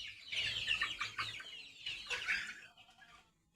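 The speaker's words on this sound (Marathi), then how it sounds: "बघा कोंबड्या कशा अंडे द्यायला त्याच्यात बसायला" Hens clucking in a goat farm shed where around a hundred to a hundred and fifty birds settle in to lay eggs, several birds calling close by in overlapping bursts that fade toward the end.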